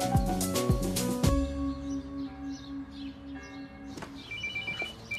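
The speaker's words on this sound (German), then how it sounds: "Telefon." A telephone rings in an office, a bright repeated bell tone over low room noise after some clattering at the start.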